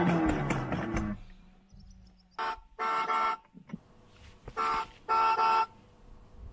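Children's ride-on toy car sounding its electronic horn and sound effects: bursts of tooting electronic horn blasts in a short repeating pattern, close and loud, following a jumble of electronic effect sounds at the start.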